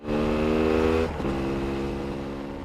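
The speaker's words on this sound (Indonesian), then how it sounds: "mereka pun menggunakan motor dari zombie itu untuk pergi ke kantor polisi" A motorcycle taken from a zombie rider revs loudly in an anime scene, a steady harmonic engine drone that dips briefly after a second, then carries on slightly quieter, with no talk.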